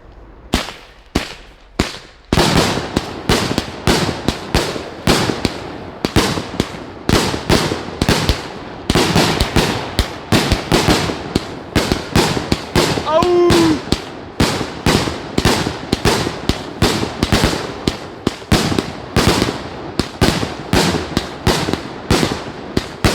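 A TW350 firework launcher fires a long rapid barrage of sharp, loud bangs, near and relentless, with a brief whistling shot partway through and no pauses in the cracking.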